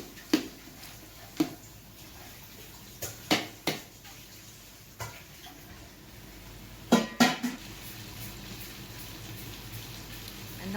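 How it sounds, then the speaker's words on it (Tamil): Mutton biryani masala with mint and coriander being stirred in a pot, giving scattered metallic scrapes and clinks of a spoon against the pot, fairly faint, with no talking. "அதையும் ஆட் பண்ணி நல்லா மிக்ஸ் பண்ணணும்."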